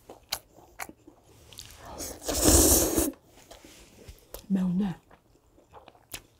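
Crunchy bites and chewing of Shin Ramyun stir-fried noodles with a Myungrang hot dog, close and intimate. A loud crunch lands near the middle, with short speech and small mouth sounds around it.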